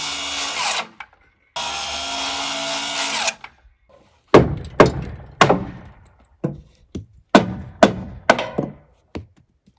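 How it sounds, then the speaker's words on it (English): Two short bursts of a power saw, then a series of sharp, ringing hammer blows knocking out a cut section of 2x4 wood, irregular and close. "Then I should be able to knock it out with a hammer."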